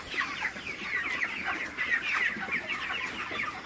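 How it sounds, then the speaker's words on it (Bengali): Broiler chickens crowding around water containers to drink, a dense flock of overlapping clucks and murmuring calls, continuous and moderately close with no talk. "আসলে পানি দেওয়ার পরে কিন্তু সব মুরগিগুলো ঝাঁপায় পড়ে পানি খায়, আপনারা দেখতে পাচ্ছেন।"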